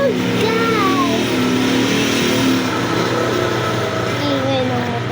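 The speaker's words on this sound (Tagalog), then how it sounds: "Ingay ng motor." A motor engine drones steadily and loudly nearby, its tones rising and falling slightly, with faint voices in the background.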